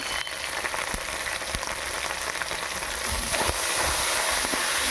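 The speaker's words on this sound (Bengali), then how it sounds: "মশলাটাকে ভালো করে কষে নেব।" Ginger and cumin paste with salt, turmeric and chili powder frying in a pan, a steady dense sizzle with faint scattered ticks and scrapes throughout, close and continuous.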